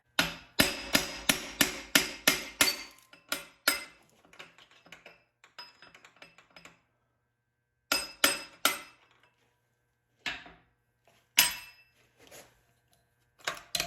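A hammer strikes a punch to drive a stuck piston out of a Massey Ferguson 35 Continental Z134 engine, with a rapid run of sharp metallic clanks followed by scattered single blows and pauses.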